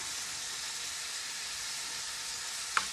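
Food browns in a pot for cream of chicken rice soup, giving a steady, even hiss of sizzling with one small click near the end.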